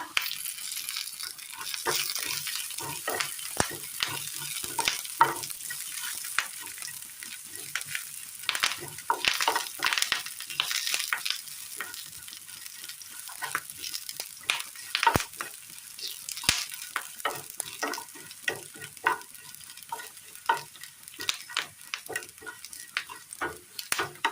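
Curry leaves and dried red chillies fry in oil with shallots and mustard seeds, giving a continuous near sizzle with spatters, crackles and stirring scrapes throughout, and no speech.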